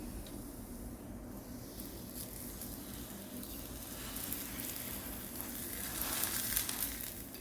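Chicken shish tawook is pressed down in a pan, with a close, steady sizzle that swells a little louder toward the end. No one speaks.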